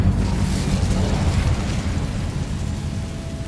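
The Incendio fire spell cast in Hogwarts Legacy gives a loud, roaring whoosh of flame with deep rumbling that stays dense throughout and eases slightly toward the end.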